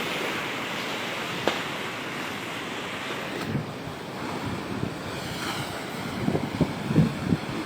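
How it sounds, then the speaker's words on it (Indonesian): High waves roll and break onto Galesong beach in Takalar under strong wind, a continuous surf roar with gusty microphone buffeting and a few heavier crashes toward the end. "seperti yang Anda lihat saat ini gulungan ombak cukup tinggi"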